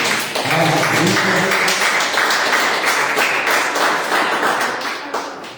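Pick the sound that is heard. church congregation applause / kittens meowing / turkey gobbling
church congregation applause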